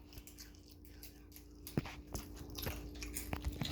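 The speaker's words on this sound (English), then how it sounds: "Chew with your mouth closed." Crunchy Doritos chips being chewed, a few sharp crisp bites and crunches at moderate distance amid room noise, with low chatter nearby.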